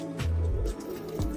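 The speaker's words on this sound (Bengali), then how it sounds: "কিছু কিছু বাচ্চা পায়রাগুলো ঘরের ভেতরে ঢুকছে, নতুন বাচ্চাগুলো এখন ঘরে ঢোকানোর টাইম হয়ে গেছে।" Young pigeons coo at close range in low, soft throaty bursts, two or three notes in quick succession.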